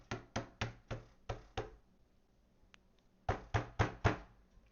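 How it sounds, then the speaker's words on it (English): Heavy banging on a door in a tabletop horror game session, two bursts of five or six loud, evenly spaced knocks separated by a short quiet gap. "you hear a banging at the bloody door."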